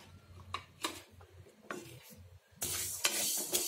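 Fenugreek seeds and black pepper dry-roasting in a pan, heard as scattered scrapes and rattling stirs, quiet at first and then a louder sustained hiss toward the end.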